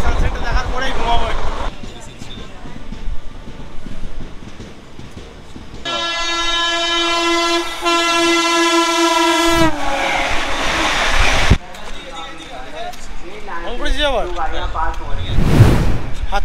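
The 12311 Netaji Express on the Howrah–Kalka line rumbles past with heavy rolling wheel noise, broken by a long, loud, steady horn blast mid-way, then continued clatter and brief sharp noises near the end.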